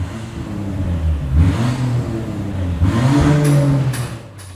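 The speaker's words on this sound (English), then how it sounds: "So we have fixed the downpipe on this beautiful Land Rover Defender, and currently this is how it sounds." A Land Rover Defender with a repaired downpipe revs close by, its engine swelling in two strong rising pulls before settling back to idle.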